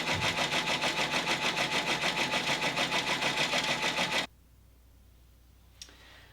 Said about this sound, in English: And go ahead and start embroidering